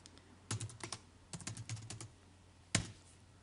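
Computer keyboard typing while entering text in Mathcad, bursts of close, crisp key clicks in short runs with a pause and a final louder keystroke, no voices.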